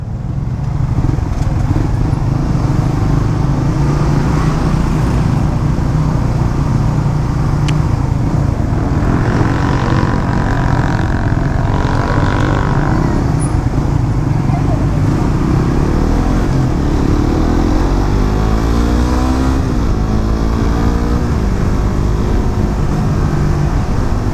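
A Suzuki GSX 150 Bandit motorcycle accelerates hard along a straight toward its rev limiter, its engine note loud, close and continuous, climbing through the gears with steady wind rush underneath.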